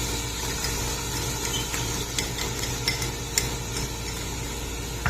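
Spices including cardamom, cloves and cinnamon bark are stirred with tomato and tomato paste in a pot, giving a steady low sizzle and soft scraping with a few light utensil clinks against the pot, close and continuous.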